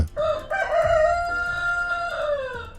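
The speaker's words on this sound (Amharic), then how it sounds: "በዚያች ቅጽበት የንጋት ዶሮ ጮኸ" A rooster crows at dawn in a scene from the film The Passion of the Christ: one long, drawn-out crow, loud and close, heard alone with no talking.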